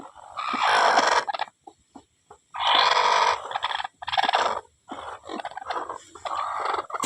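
Hens cluck loudly and close by in repeated bursts with short pauses between them, a busy, squawking run of calls with no talking.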